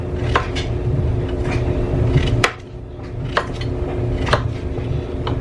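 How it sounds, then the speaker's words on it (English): A knife chops food on a board in a home kitchen while apples, chicken dressing and potatoes are being prepared, with a handful of sharp, separate knocks spaced about a second apart over a steady low background hum. "let's get this out of the way so I can chop it up and put it in my bowl"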